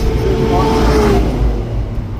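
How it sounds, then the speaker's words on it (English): A Saab 9-3 engine hums steadily at low revs, around 1,500 to 2,000 rpm, smooth and unhurried, with a faint tonal whine riding over the rumble. "She just hums along like this."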